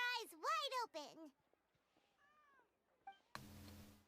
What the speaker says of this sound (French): Chat.